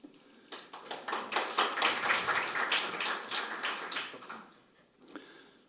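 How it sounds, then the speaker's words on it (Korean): Audience at a Korean public hearing on income protection for child entertainers claps to welcome guests, a burst of many hands that swells, holds and tapers off, ending in a few scattered claps. "모두 큰 박수로 환영해 주십시오."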